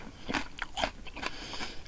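Crisp bites and crunchy chewing of a chili pepper dipped in ssamjang during a Korean beef meal, several close, quiet crunches in quick succession with no talk.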